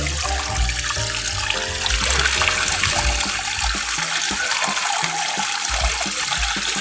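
A washing machine drains its water in a steady, close rushing gush with a low tonal hum running underneath throughout.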